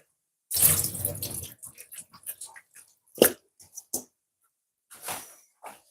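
Water drains off raw chicken into a kitchen sink while jerk chicken stew is prepared: an opening burst of splashing pour, then scattered trickles, drips and small splashes with quiet gaps between.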